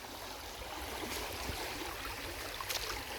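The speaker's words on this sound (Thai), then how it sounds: "น้ำไหลคักกะลีนี่" Water flowing in a forest stream during a bamboo-shoot foraging outing, a steady broadband rush and trickle filling the whole clip at moderate loudness with no talk.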